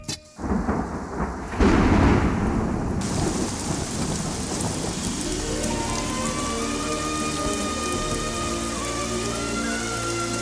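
Heavy rain pours steadily with a sharp, close thunderclap and rolling rumble near the start, then continuous downpour, with no voices and music-like tones rising underneath later.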